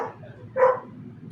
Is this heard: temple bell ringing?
no